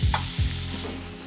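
Onion dropped into a hot pan, a short close sizzle with a couple of low thumps at the start, then a steady hiss.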